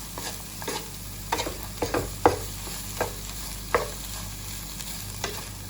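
Sliced okra sizzles gently in a hot pan while a spatula stirs it in scattered scrapes and clacks, with a steady soft frying hiss underneath and no talking.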